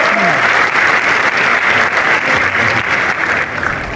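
A crowd at a FlipTop rap battle claps loudly and continuously, a dense wash of applause that barely varies over the few seconds.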